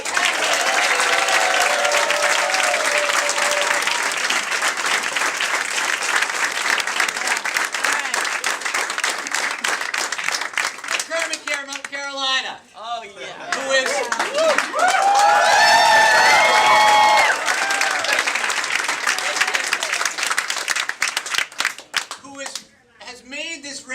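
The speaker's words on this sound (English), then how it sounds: "join me in a big round of applause for him" Crowd applause at a political speech event, loud sustained clapping with cheering that dips briefly, then swells again and carries on, with voices rising over it.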